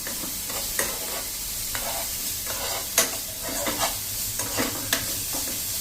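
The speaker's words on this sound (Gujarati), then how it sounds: "અને જે આપણા કાંદા અને મરચાંને ઝીણા સમાર્યા છે એને નાખી દઈ અને એને આપણે લાઇટ એવા જ સહેજ કૂક કરવાના છે" Finely chopped onions and chillies sizzle steadily in a pan over a slow-to-medium flame, with a spoon periodically scraping and stirring through the mix.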